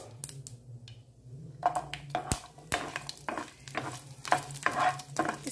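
Sliced garlic frying in oil in a pan, with urad dal and curry leaves already tempered for a bottle gourd and sesame curry; a steady sizzle runs under intermittent stirring scrapes and clatters.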